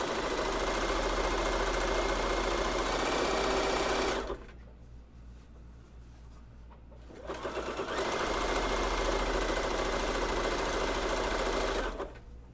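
A sewing machine stitches women's underwear in two long, loud, rapid runs. A short quieter pause separates them, and only a faint hum is heard during the break.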